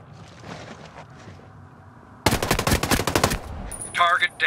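Loud, rapid machine-gun bursts ring out close by in the video game Ghost Recon Breakpoint, a dense rattling volley lasting about a second, with quieter game sounds around it.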